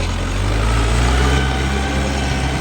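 YTO Eco Master 404 tractor engine pulling under load in second gear, a loud, steady low diesel drone with a deep throbbing rumble, close and continuous, no talk.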